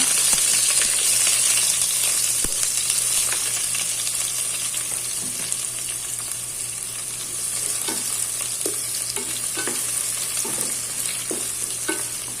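A small onion fries in a pan for ghee rice, a loud constant sizzle overlaid with frequent metallic stirring scrapes and clinks, close up and without speech.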